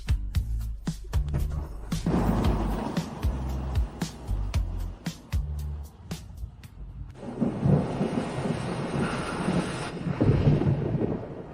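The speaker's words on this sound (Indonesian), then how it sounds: "bagaimana tiba-tiba mulai hujan deras?" Heavy rain pours down through a thunderstorm as deep rolls of thunder rumble loudly, with a steady hiss of rain throughout.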